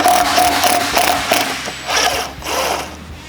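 Allen screws being tightened on a Harley-Davidson Fat Boy sissybar mount, a series of close, quick ratcheting clicks in short bursts with brief pauses between them.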